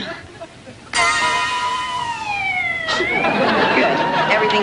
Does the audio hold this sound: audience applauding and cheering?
no